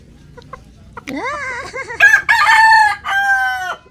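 Pet chickens at feeding time, a rooster crowing loudly and close in a few rising, drawn-out calls after a couple of faint clucks, with no talk over it.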